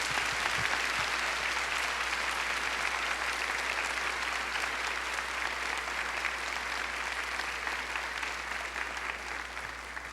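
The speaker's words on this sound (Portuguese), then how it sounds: "Pode aplaudir então." A church audience applauds after a sermon by Monsignor Jonas Abib, a dense, steady wash of many hands clapping that holds at an even, full level for about ten seconds with no voices on top.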